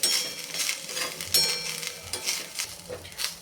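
Rice grains stir-roasted in ghee in a pan for a kheer, giving a soft dry rustle with repeated scraping strokes of a spoon, close and fairly quiet, no voices.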